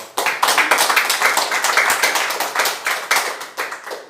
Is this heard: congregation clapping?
yes